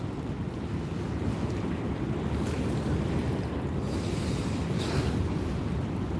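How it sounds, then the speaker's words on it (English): Steady wind buffets the microphone outdoors on a boat during a fishing trip, a continuous low rushing roar with faint water wash, no voices. "Wind's calming down, it's starting to warm up."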